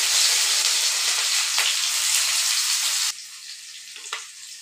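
Onion tossed into hot oil in a wok along with a few whole spices, a loud, dense sizzle for about three seconds that then drops abruptly to a quieter hiss, with a brief low rumble early on and no voices.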